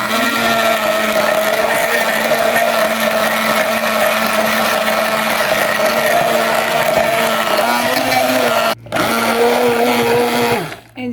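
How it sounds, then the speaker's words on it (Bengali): A handheld immersion blender churns buttermilk in a steady, loud motorized whir for about nine seconds, briefly stopping and restarting near the end. "এখন আমি এই যে হ্যান্ড ব্লেন্ডারে বানাবো"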